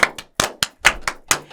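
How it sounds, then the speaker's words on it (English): Several sharp hand claps in an irregular rhythm, each a crisp broadband burst, close and fairly loud, with short gaps between them. "Everybody clap your hands."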